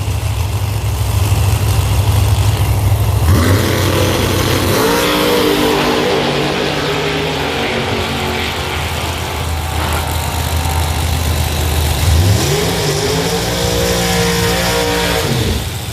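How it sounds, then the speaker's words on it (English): Outlaw drag racing cars launching at Beech Bend Raceway, very loud engines roaring and revving up through gears, one car rising in pitch then a second launch following, with crowd and track noise behind. "What a drag race."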